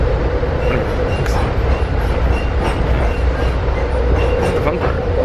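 Steady rumble and rattle of an Amtrak train rolling along the rails, heard from inside, with faint clickety-clack and a voice speaking underneath.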